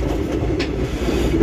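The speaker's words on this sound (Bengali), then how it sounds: "আর এই হচ্ছে উড়িষ্যার বহরমপুর রেলওয়ে স্টেশন।" A train rumbles close by at Berhampur railway station in Odisha, a loud, continuous low roar of rolling wheels and carriages.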